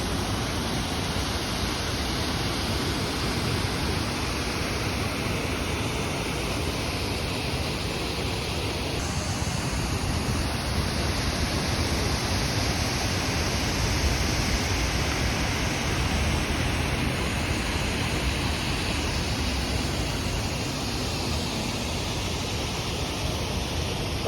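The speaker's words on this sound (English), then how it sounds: "Pit stop, and probably only stop, is Rastoke Waterfalls." Steady rushing roar of the Rastoke waterfalls in Croatia, a constant broadband wash of falling water heard close and fairly loud for the whole stretch, with no voices.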